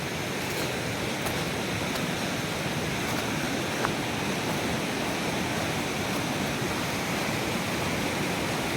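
Woodland stream flowing on Dartmoor, a continuous broadband rush of water, steady and fairly close, with no voices.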